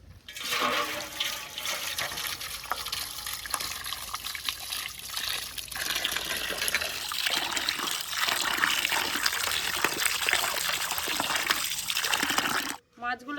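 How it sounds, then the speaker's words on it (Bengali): Water splashes and runs steadily while pieces of boal catfish are washed by hand, a continuous close gush with a voice speaking over it. "মাছগুলো সব ভালো করে ধুয়ে নেব"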